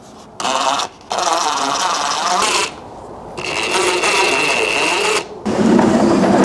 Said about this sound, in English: Best way to do that is let's go insert some screws on the rail.